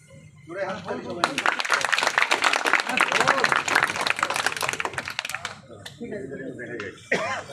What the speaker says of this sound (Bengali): জোরে হাততালি সবাই।